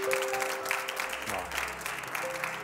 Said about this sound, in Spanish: un aplauso para doña Modesta